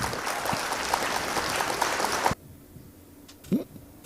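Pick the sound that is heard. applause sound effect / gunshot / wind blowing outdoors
applause sound effect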